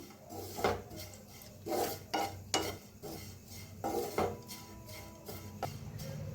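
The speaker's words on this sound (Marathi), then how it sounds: "छान असं खोबरं भाजायला लागलेलं आहे" Grated coconut roasting in a pan, stirred with a utensil that scrapes and clinks against the metal in irregular strokes, close and fairly loud, with a faint sizzle underneath and no talking.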